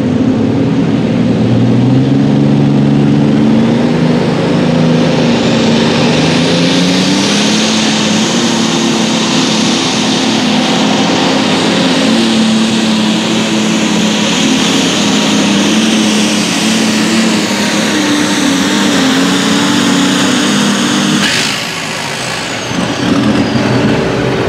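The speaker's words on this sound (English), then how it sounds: "Let's run to start our light limited super stock tractor division right here." Light limited super stock tractor at a pulling event in Hopkinsville, Kentucky, its engine roaring loud and sustained with shifting pitch for the whole pull, easing off near the end.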